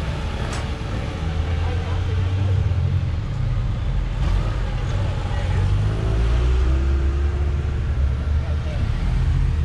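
Cars roll in and idle at an outdoor parking-lot show of Japanese classic cars, a steady low engine and road rumble continuing throughout without pause.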